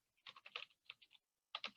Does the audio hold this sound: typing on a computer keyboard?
yes